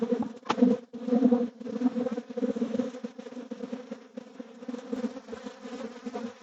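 Angry honeybees swarm around an open hive during an early-season inspection with cross comb, a dense, continuous buzzing close by that pulses in intensity, with no talking.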